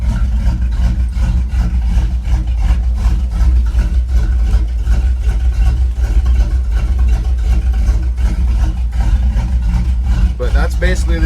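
A Mopar truck engine idles low and steady around 600 rpm after a cold start, a loud continuous rumble heard from inside the cab.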